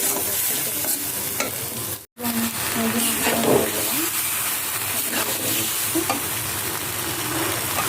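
Pasta stir-fried in butter with chopped onion, chili and garlic: a steady, loud sizzle in a pan with stirring scrapes throughout, broken by one brief cut, with faint voices in the background.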